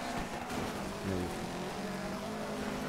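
Rally car engine in the racing game Dirt 3, a loud continuous growl with shifting pitch as the car accelerates, heard alone without voices.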